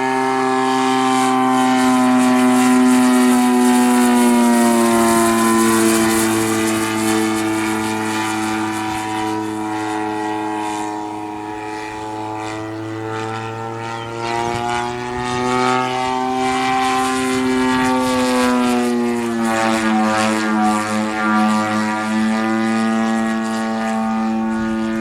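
A Hostetler 33% scale Super Chipmunk RC plane flying knife edge, its engine a loud, steady drone whose pitch swells and sags as it passes, heard alone without talk.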